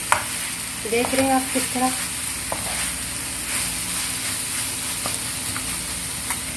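Chicken masala being stir-fried in a pan, a continuous close sizzle with soft scraping as it is turned, while a person speaks briefly over it near the start.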